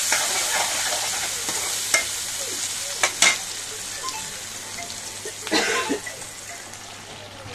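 Sliced onions fry into crisp brown birista in hot oil, a loud, steady sizzle with a few stirring scrapes and clatters from close by.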